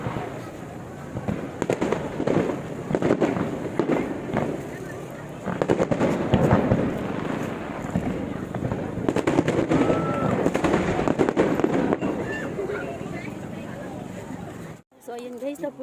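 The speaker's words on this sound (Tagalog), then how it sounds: "Sa barko nila nilagay yung fireworks." Fireworks launched from a ship at the Pattaya Beach Festival roar in a dense, nonstop barrage of booms and crackles, with people talking and exclaiming underneath, before cutting off abruptly near the end.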